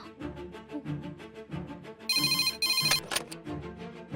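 An outgoing telephone call rings in a handset earpiece, with two short bursts of ringback tone over a rhythmic background music track.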